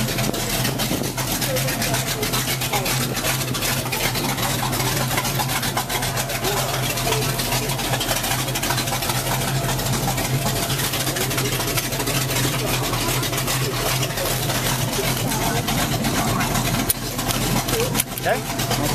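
A monster truck engine idles close by with a steady, unbroken low rumble, while people talk over it.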